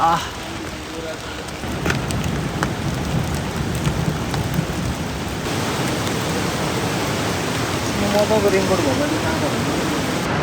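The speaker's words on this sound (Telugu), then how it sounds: "వర్షం పడుతుంది." Steady rain falls on a Himalayan trekking trail at about 2,920 meters, a continuous hiss of drops with a soft low rumble, heard close and constant throughout.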